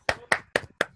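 Four sharp, evenly spaced hand claps ring out close and clear in about a second, a short, sparse burst rather than a full crowd.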